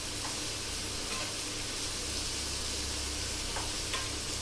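Onion frying in oil in a pan for prawn bharta, a steady soft sizzle that runs the whole time at low level, with faint occasional stirring clicks and no talk.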